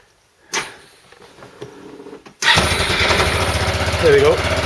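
A Yamaha YP250 Majesty scooter is started: a brief click and whirring crank come first, then the engine catches and settles into a loud, close, steady idle with a short rev near the end.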